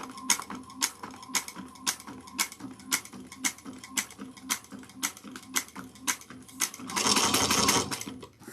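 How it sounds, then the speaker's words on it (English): A sewing machine top stitches around a bag in a steady run of evenly spaced, close mechanical stitching pulses, ending in a brief, louder rushing burst near the end. "we're going to top stitch 1/8 of an inch all the way around"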